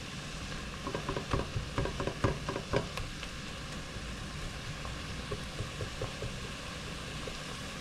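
Ground beef and garlic sizzle in a pan for cheeseburger pasta, with a burst of scraping stirring strokes early on, then a steady quieter fry.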